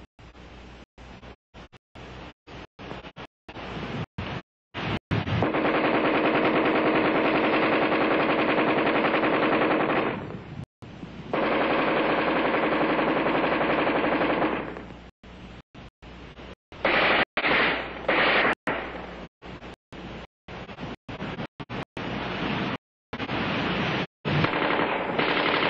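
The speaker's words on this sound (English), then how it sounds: "offhand firing against a man-sized target at combat range, the AR-10 is in a class by itself" ArmaLite AR-10 rifle fired offhand at a man-sized target at combat range: long sustained bursts of loud, rapid automatic fire, broken by short pauses and single or scattered shots, with no talk.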